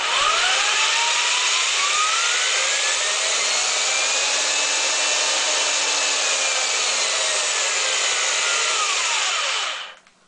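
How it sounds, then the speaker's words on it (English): A power drill spinning to test a digital speedometer on a DeLorean conversion runs as a loud, close whine. Its pitch climbs, holds, then falls away before the motor cuts off at the end. "Forgive the sound because the drill makes an awful racket, but it's the only way to test it up close."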